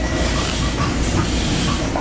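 Inside a passenger train car on a trip to New York City, a steady loud rumble and hiss of the moving train carries on without a break, with no talking.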